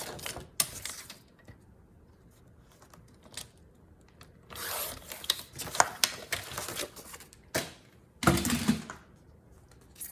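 Paper for a junk journal is cut in quiet, intermittent bursts of crisp snipping and rustling, separated by near-silent pauses.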